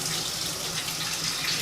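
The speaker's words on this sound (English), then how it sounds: "take your measuring cup and you want to put some water in it" Tap water runs steadily into a measuring cup in a home kitchen, a continuous close splashing rush with no pauses, filling the cup alone without talk.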